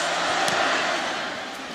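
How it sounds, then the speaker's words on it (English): A large football stadium crowd roars steadily during a kick return between Florida State and Florida, a broad sustained wash of cheering voices heard from a distance, holding level throughout with no separate talk. "Crowd really into it, hoping for the big play for their guys."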